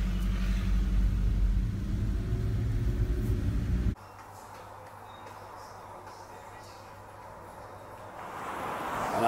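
A car driving on the road, a loud steady engine and road rumble for about four seconds, then dropping to a quieter, smoother interior hum that swells again near the end.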